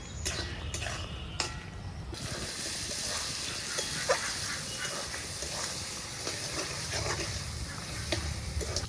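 Mutton pieces fry in a pan with spices, cumin and coriander powder, while being stirred; a steady sizzle with scraping and occasional utensil clinks continues throughout, moderately close.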